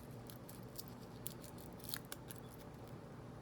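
Speaker wire being snipped while wiring a rock light on an ATV, a few small crisp cuts and clicks close by over a steady low background hum.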